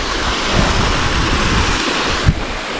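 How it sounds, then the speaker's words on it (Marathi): The Kumbha waterfall gives a loud, constant rush of falling water, a dense broadband roar that holds steady throughout with a slight thump near the end. "तो आम्ही तर आलेलो जो कुंभा वॉटरफॉल बघण्यासाठी"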